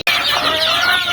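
Loud, close free-range chickens in a pen clucking and squawking together in a dense, continuous burst, with no talk.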